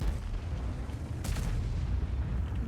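A single booming tank cannon shot in World of Tanks, fired from an IS-3-II heavy tank, a sharp loud blast partway through over a steady low rumble of engine and battlefield noise.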